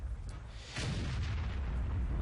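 The Waffenträger E-100 tank destroyer's gun fires in a video game, a single heavy boom rising from a low rumble, then a rolling deep tail that carries on to the end.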